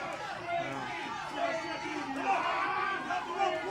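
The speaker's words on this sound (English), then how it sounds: "Look at the crowd all over it calling Alistair Diamond Twinkie." A wrestling arena crowd taunts Alistair Diamond at a Superstars of the Ring show, a steady babble of many voices chanting and jeering under close commentary.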